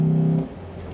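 A Chevrolet Trailblazer SS V8 revs while power braking at the start of a 0-50 test, a loud, steady held engine drone that drops off after about half a second.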